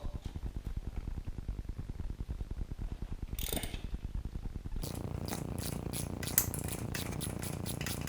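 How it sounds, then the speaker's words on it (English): A hand ratchet loosens 12 mm bolts on the differential of a Honda Big Red 250es three-wheeler, steady close rapid clicking, then a brighter, busier rattling as the bolt spins out. "let's get these 4 bolts off now so we can disconnect that diff altogether"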